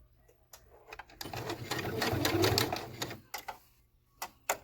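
A sewing machine stitches straight seams on a simple cloth face mask, with short bursts of rapid mechanical whirring: a brief run early, then a longer close stitching run in the middle, then a few clicks and taps.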